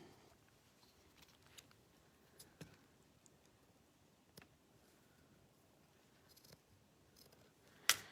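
Scissors snip craft material for embellishments in a quiet room. A few faint, scattered cuts come at irregular moments, with a sharper snip near the end and no talking.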